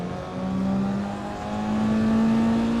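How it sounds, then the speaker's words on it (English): A race car in a racing video game revs on downshifts during a downhill stretch, its steady engine drone rising in pitch, loud and continuous, with no voices. "And I need to blip the car on downshifts."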